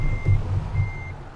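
A truck's reversing alarm beeps as the rig backs into a spot in Euro Truck Simulator 2, with two evenly spaced electronic beeps over a low, rumbling diesel idle.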